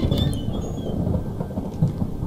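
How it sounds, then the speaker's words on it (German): Rain falls in Pineview Drive as a steady broadband wash with low rumbling underneath, continuous and moderately loud with no voices. "Ach, Regen. Das ist Regen."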